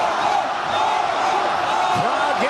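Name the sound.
crowd at a fight getting loud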